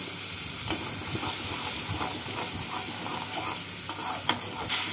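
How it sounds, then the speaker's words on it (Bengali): A spice paste fries in a pan while being stirred, a continuous close sizzle and hiss with a couple of sharp clinks of the utensil against the pan. "মশলাটাকে কষিয়ে নেব।"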